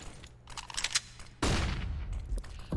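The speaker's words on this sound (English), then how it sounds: "Bullet takes out Vega with another good headshot with an MP9" Gunfire from an MP9 and an M4 in a Counter-Strike: Global Offensive corporate league match, with a loud sustained burst of shots after a quieter opening of scattered game sounds.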